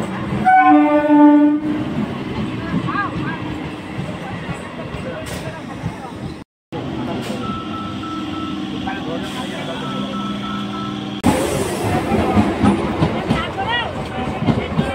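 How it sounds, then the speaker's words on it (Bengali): A train pulls into Baghajatin station, opening with loud horn blasts and then a heavy, continuous rumble of wheels and carriages, close and dominant, with faint voices beneath. "বাঘাযতীনে একদম এই জাস্ট ট্রেন আসছে"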